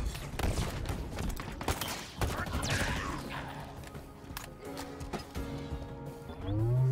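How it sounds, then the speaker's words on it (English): Explosions and rapid gunfire crackle and boom in the video game Halo Infinite, with dense overlapping bursts at the start that thin out into scattered shots and rumbling. "Why are there so many explosions happening?"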